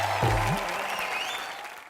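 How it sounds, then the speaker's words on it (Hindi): Loud studio-audience applause on a Hindi comedy entertainment show, a dense wash of clapping from a large crowd that begins full and slowly fades over two seconds, with a brief low voice or tone near the start. "एक बार हमारे तीनों सुपरस्टार के लिए जोरदार तालियां हो जाए"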